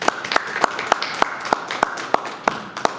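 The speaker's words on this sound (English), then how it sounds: "Let's give a round of applause to Mr." A few audience members at a lecture on baseball history clap sparsely, sharp separate claps at an irregular, slow rhythm over a low room murmur.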